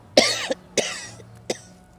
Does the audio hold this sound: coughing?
yes